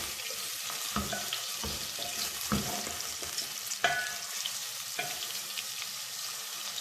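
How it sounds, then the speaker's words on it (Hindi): Chopped onions fry in a pot over raised heat while being stirred, a steady close sizzle broken by several scraping, clattering stirs at irregular intervals. "आँच को हम थोड़ा सा बढ़ा देंगे। प्याज को जो है हमें पिंक कलर में लाना है।"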